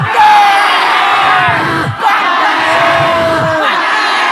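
A large crowd at an Islamic tabligh akbar rally shouts back in unison, a loud sustained roar of voices with a brief dip midway before swelling again.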